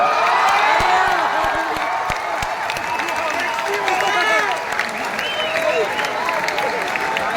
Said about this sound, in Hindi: तालियां थोड़ी कमजोर है, जितनी बढ़िया तालियां बजाओ तो उतना बढ़िया